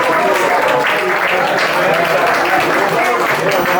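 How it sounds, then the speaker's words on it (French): An audience at a fundraiser spaghetti dinner claps warmly and continuously, the dense applause loud and close throughout, with possible murmurs mixed in. "Je vous demande de l'applaudir très chaleureusement."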